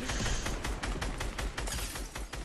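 Repeated blasts from rocket launchers in a robot combat video game, a dense run of loud, broadband explosive bursts roughly every quarter second, booming continuously with no gaps.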